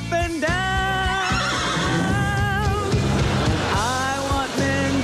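A horse neighs loudly and close by, a series of shrill whinnies with wavering, falling pitch repeated across the stretch, heard alone without talk.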